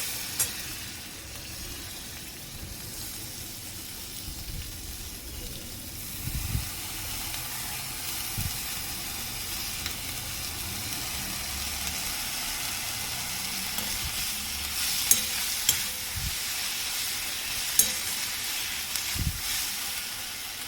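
Cooked dal with a little turmeric and fresh greens sizzles in a pot while being stirred, giving a steady close hiss broken by occasional soft scrapes and clinks of the spoon.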